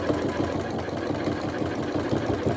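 A sewing machine stitches a fabric face mask, its rapid mechanical chatter running continuously and close up at a steady even pace with no voices over it.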